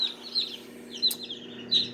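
Young chicks hatched only days ago peep in short, high chirps, three quick bursts spaced about every second over a steady low hum, close and fairly clear.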